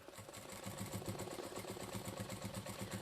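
A sewing machine stitching raw-edge appliqué onto a quilt, a fast, even mechanical chatter of needle strokes running continuously at close range, fairly quiet.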